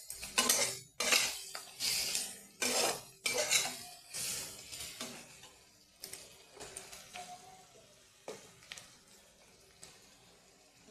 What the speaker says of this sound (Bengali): মশলার সঙ্গে আলু দিয়ে দিলাম।